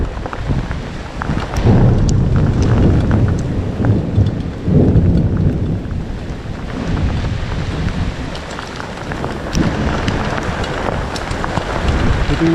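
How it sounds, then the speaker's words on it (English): A thunderstorm over a homestead brings heavy rain hissing steadily, with deep rolling thunder that swells loudly early on and again midway, plus gusts of wind on the microphone. "We got more thunder, more lightning."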